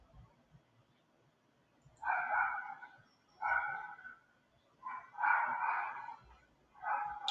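Several dogs bark in repeated bursts of about a second each, fairly close and clear, with quiet pauses between and no talking.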